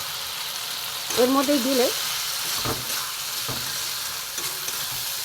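Cut prawns sizzle as they fry in a spice masala, a steady hiss and crackle in the pan that runs throughout, with someone briefly speaking over it.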